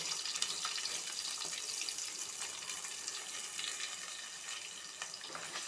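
Sliced onions sauté in a pan with cinnamon bark and fennel seeds for a wheat rava pulao, giving a steady, moderately loud hiss and crackle that runs unbroken throughout with no voices.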